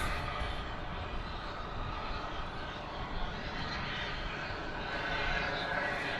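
An American Airlines Boeing 787 Dreamliner at DFW Airport in the evening gives a steady, broad roar of jet engines that holds for several seconds, with no clear voices.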